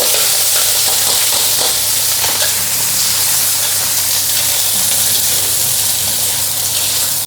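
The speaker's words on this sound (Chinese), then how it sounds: "蒜米下去 蒜米这个是要爆香。 现在就放这个肉。" Garlic and pork belly stir-fry in a wok with lard, giving a loud, steady sizzle and spatter that runs unbroken from start to finish, with no talking.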